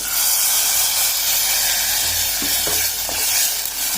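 Curd hits softened tomatoes in a hot pan, a loud broad hissing sizzle running throughout, with a few stirring knocks near the end.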